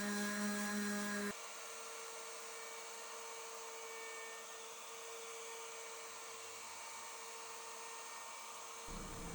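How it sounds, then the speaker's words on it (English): Steady whining power-tool drone, like an electric sander, running continuously at close range and dropping briefly in the first second. "it's time for a lot of sanding"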